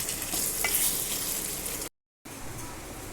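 A pan of hilsa fish and teasel gourd curry is stirred over the heat: a loud, close frying sizzle with scraping stirs, broken by a brief total silence before the sizzling resumes.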